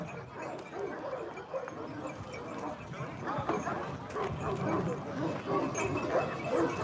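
Barks and yips from a Kangal being walked around a show ring, with the dog's calls scattered through a busy crowd wash and a person talking nearby.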